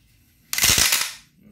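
A sharp, sudden metallic snap-like burst from a new Power Twister arm exerciser spring in use, a single harsh hit that rings and fades over about half a second against a quiet room.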